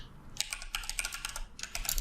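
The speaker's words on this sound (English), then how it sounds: "I can do that by typing title and typing this dot title" Rapid typing on a computer keyboard while coding a Spring Boot and Angular project, with dense clicking bursts separated by a short pause, close and clear with no voices.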